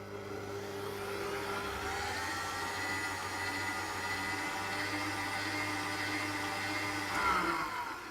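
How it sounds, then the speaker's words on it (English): Stand mixer whisking butter icing with icing sugar, a steady whirring motor drone with a faint rise in pitch near the end, continuous and close, with no speech. "So I'm going to whiz this together now for about 40 seconds."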